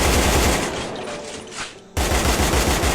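An AK rifle fires in the CrossFire mobile game. A loud automatic burst trails off into a fading echo, then a second sharp volley of rapid shots starts abruptly, with no voices.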